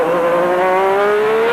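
A Formula One race car at the 1991 US Grand Prix streaks past with a loud, sustained high-pitched engine whine that rises slightly in pitch, close and alone without speech.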